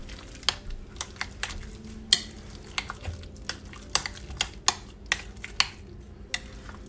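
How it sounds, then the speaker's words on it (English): Egg salad being mixed with onion powder in a bowl, a utensil tapping and scraping in irregular clicks, about a dozen crisp strikes over soft background, close up with no talking. "Let's mix that in."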